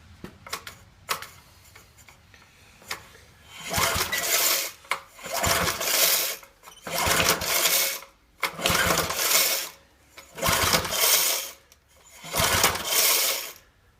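Small gas vapor engine being cranked in repeated bursts, about seven rough, loud cranking pulls a second or so apart with short pauses between, after a few light ticks at the start, never catching.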